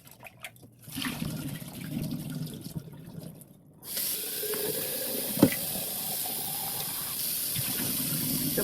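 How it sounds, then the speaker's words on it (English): Running tap water pours into and rinses a jar of radish microgreens, a steady close rush that swells louder partway through with occasional splashes and clinks. "I feel like I want to rinse the other jar one more time to make sure I got that vinegar out"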